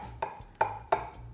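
A utensil cutting into a dish of baked spaghetti with a phyllo dough crust, three sharp clinks of metal on the dish spaced apart, fairly close and quiet.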